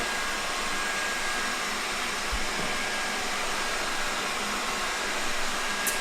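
A steady, loud whirring hum of a Xiaomi Roborock S50 robot vacuum runs continuously throughout as it maps the room's edges, with a broad airy motor noise and no voices.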